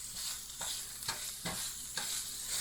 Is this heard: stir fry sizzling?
yes